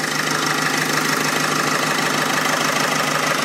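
A 2016 Opel Insignia's 1.6-litre, 136-horsepower engine runs at a steady, even drone that holds at a constant level throughout, with no voices.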